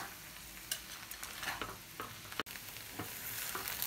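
Veg chowmein noodles with purple cabbage are stir-fried in street style, salt mixed in, giving a constant sizzle with repeated scraping and tossing strokes and one brief sharp clack, no talk.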